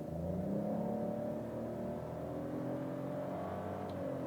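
A 2024 Peugeot 208 Style 1.0 Turbo accelerates from 0 to 100 km/h in normal mode with the air conditioning on, its engine note rising steadily then easing at a gear change, heard from inside the cabin, with no talking.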